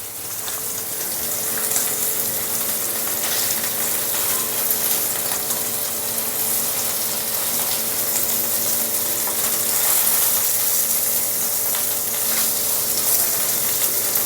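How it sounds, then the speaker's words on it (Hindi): Paneer pieces frying in a pan give a steady, close sizzling hiss with scattered crackles that holds evenly throughout, over a low constant hum, with no one talking. "अभी मेरी बेटी पनीर को फ्राई कर लेगी"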